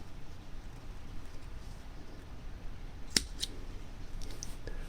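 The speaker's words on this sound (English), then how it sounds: "I'm going to take my scissors and cut this pretty even." Scissors make a few quick snips through fly-tying material while tying a Chernobyl Ant fly, faint and close against a steady low background hiss, with no talking.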